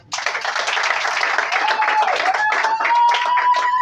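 An audience at an official ceremony applauds the governor, dense sustained clapping starting abruptly and holding steady, with voices and a tonal cheer or whistle rising through it.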